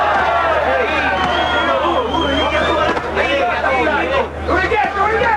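Capacity boxing crowd in Saint-Tropez murmurs in a steady, moderately loud babble of many distant voices, a continuous indistinct hubbub with no single voice standing out.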